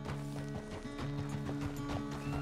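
A horse's hooves clip-clop at a steady walking pace in the video game Red Dead Redemption 2. The hoofbeats are close and even over a low ambient hum and music.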